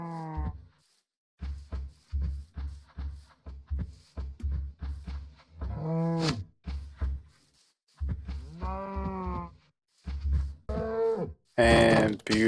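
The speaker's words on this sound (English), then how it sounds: "Okay, now let's go find some cows." Cows in Minecraft moo repeatedly, their drawn-out lowing calls arriving one after another over a steady thumping rhythm of footsteps, close and fairly loud.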